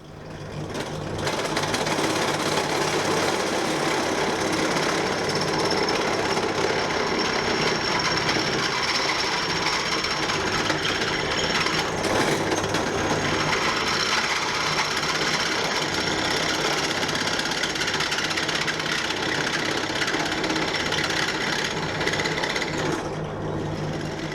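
A drill bores through a soft aluminium part from a 1978 cafe scrambler motorcycle clamped in a vise, a continuous loud whirring grind that runs almost unbroken for over twenty seconds before stopping, with no voices.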